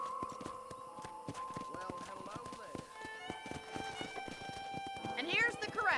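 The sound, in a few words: horses in corral in video game Red Dead Redemption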